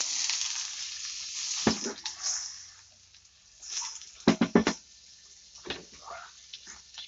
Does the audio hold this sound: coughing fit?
no